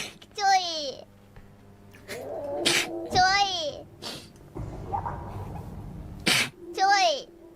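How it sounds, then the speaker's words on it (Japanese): Sharp sneezes, several in a row at irregular gaps, from a Hololive VTuber sneeze compilation, with high, squeaky voiced sounds and speech in between. "くしゃみが止まんないや。"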